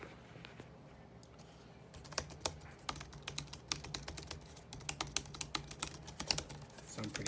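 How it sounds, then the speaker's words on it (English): Keys of a Cimetech wireless keyboard clack in a quick, irregular typing rhythm after a short quiet start, close and moderately soft. "Here's the sound of the keys."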